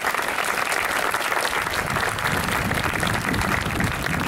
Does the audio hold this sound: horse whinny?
no